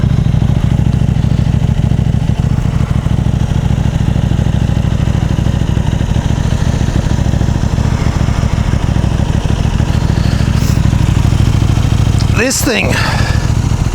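A KTM 790 motorcycle engine idles in neutral, a steady low rumble running throughout with a voice talking over it and a brief sharper sound near the end.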